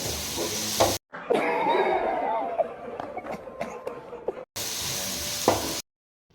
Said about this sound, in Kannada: ಫ್ರೈ ಮಾಡ್ಕೊಳ್ಳಿ ಇದನ್ನು.